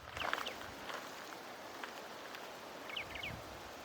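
Faint, distant whistled phrases from a crissal thrasher in Spring Mountain State Park, Nevada, come in brief bursts at the start and again near the end over soft outdoor rustling and breezy background noise.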